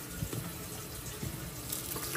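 Tap water runs steadily into a pot while rice is rinsed in a home kitchen, a continuous close splashing gush with a few small knocks, no talking.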